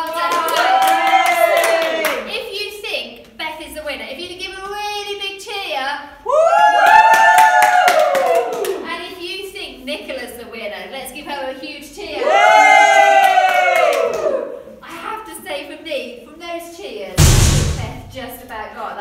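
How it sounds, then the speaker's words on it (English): Children at an online kids club cheer and clap in several bursts, lively whoops and applause rising and falling amid voices, with a sharp louder clap burst near the end. "Let's give them a cheer."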